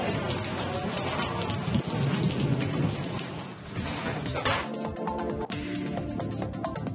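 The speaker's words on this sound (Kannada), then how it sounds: "ಬೆಲಗೂರು ಗ್ರಾಮದಲ್ಲಿ ಆಲಿಕಲ್ಲು ಸಹಿತ ಭಾರೀ ಮಳೆ, ಗಾಳಿ" Heavy thunderstorm downpour with hail and gusting wind in a village in Chitradurga district, a loud dense roar of rain hammering surfaces with scattered sharp hail impacts and rumbling bursts throughout, no voices.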